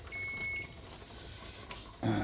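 A kitchen timer beeps while chicken broth is being canned, with short electronic tones sounding in a quiet room and a louder burst near the end.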